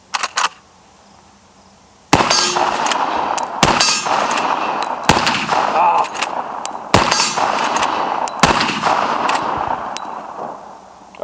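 Rapid shots from a color case hardened Henry .45-70 lever-action rifle ring off steel targets, giving a run of loud sharp cracks, each with a metallic clang, spaced about a second or two apart after a short quiet start.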